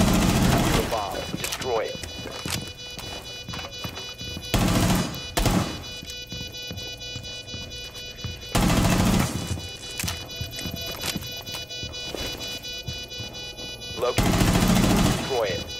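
Bursts of gunfire from the Rainbow Six Siege video game crack out in several rapid volleys, mixed with game sounds and a voice talking.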